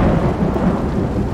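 In the video game Road 96, a steady, loud rumble of thunder rolls over dense falling rain, with no voices.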